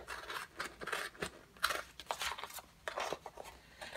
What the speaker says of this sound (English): So I'm just gonna cut my image.